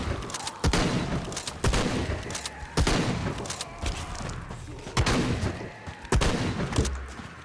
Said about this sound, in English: I really don't like the shotgun.